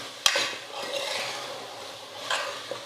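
Potato kurma sautés in a pan as a utensil scrapes and stirs with soft, rasping strokes and an occasional sharp click, quiet and close throughout.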